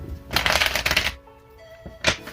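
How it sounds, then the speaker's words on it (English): A deck of tarot cards is shuffled up close: a crisp riffling burst lasting under a second, a pause, then a shorter second riffle. "let's get these cards shuffled"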